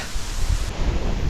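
Strong wind buffets the microphone in a low, rushing roar that stays steady and loud for the whole moment.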